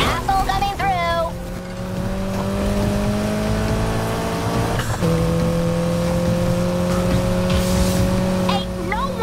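A custom Mitsubishi Evolution racing in Need for Speed Heat, its engine holding a loud steady drone with a gear-shift dip midway, while a voice speaks briefly at the start and end.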